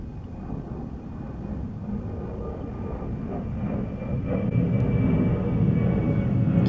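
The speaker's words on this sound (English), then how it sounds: "Can you guys hear the planes?" Airplane flying overhead near an airport, a low, steady rumbling roar that gradually grows louder toward the end of the clip.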